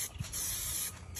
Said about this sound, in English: this is just spraying spray adhesive.